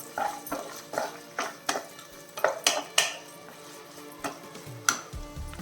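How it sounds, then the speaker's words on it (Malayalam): Onion and green chillies sautéed in a pan, heard as a series of sharp, irregular clinks and scrapes of a spoon on metal over a soft sizzle. "എന്നിട്ട് നല്ല രീതിയിലൊന്ന് വഴറ്റിയെടുക്കണം"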